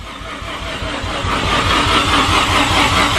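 The turbocharged engine of a Mazda RX-7 (FD) with a big single turbo cranks on a weak battery. A loud, rough mechanical churn with a low rhythmic pulsing runs throughout and builds slightly, without talk.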